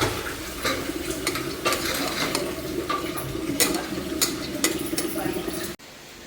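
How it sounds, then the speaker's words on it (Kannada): Green gram being stirred into onions frying in oil in a pan, with a steady scraping, sizzling stir that runs close and continuous until it cuts off near the end. "ಇವಾಗ ಹೆಸ್ರು ಕಾಳು ಹಾಕ್ಕೊಂಡು ಚೆನ್ನಾಗಿ ಮಿಕ್ಸ್ ಮಾಡ್ಕೊಳೋದು"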